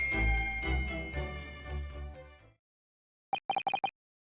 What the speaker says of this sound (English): Alright, Susie, let's ring the bell!